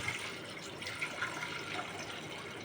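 Water is poured from a tap into a basin to wash chicken, a soft continuous splashing stream heard faintly and alone.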